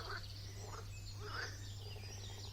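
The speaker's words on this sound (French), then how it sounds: "Il y a une petite mare et j'ai l'impression que nous sommes entourés de petites grenouilles qui s'amusent et qui parlent" Small frogs croaking around a little spring pond ringed with trees, a soft scatter of chirping calls repeating in quick bursts over a steady low hum, fairly faint and distant with no voices.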